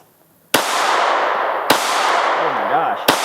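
Pistol fired after a mud torture test of a Glock 43 or S&W Shield subcompact, three loud, sharp outdoor shots spaced over about three seconds, each trailing into a long echoing ring.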